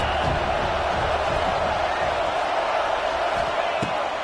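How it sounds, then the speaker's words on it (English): Loud, steady roar from a football stadium crowd on a third down, with a dense wash of voices and a few sharp thuds. "Big third down as the crowd gets behind this defense."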